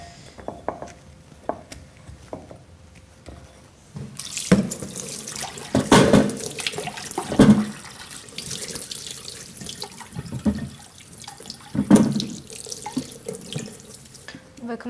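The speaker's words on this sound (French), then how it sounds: "Donc je vais commencer par rincer les légumes." Vegetables are rinsed under a running kitchen tap, the water splashing in loud bursts after a quieter start. Soft clinks and handling noises come and go throughout.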